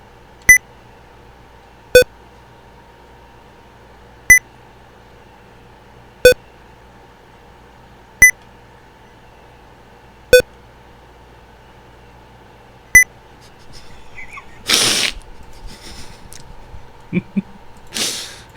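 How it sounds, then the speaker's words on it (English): Seven sharp electronic beeps repeat at roughly two-second intervals over near silence, followed by scattered rustling and clatter. "It's just a series of beeps inside his fucking head."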